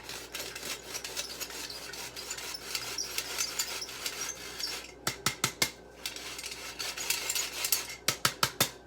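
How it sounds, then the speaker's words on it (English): Flour mixture shaken through a sifter, a steady dry rasping rub that runs continuously, pauses briefly, then resumes, with a few sharp taps on the sifter near the end. "I'm going to add a half teaspoon right into my flour mixture, and I'm going to sift it"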